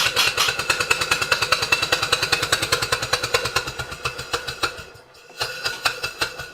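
A restored Stuart Turner steam engine runs on compressed air with a fast, steady train of loud mechanical chuffs and knocks. The beat breaks off briefly near the end, then picks up again, with no voices over it.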